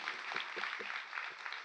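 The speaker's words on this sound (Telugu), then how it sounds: "ఒకసారి గట్టిగా చప్పట్లు కూడా దేవుని మహిమ పడదామా?" Church congregation clapping loudly in praise of God, a dense steady wash of hand claps filling the room with scattered sharper claps standing out.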